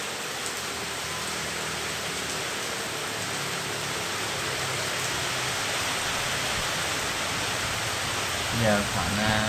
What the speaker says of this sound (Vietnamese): trời mưa khá to luôn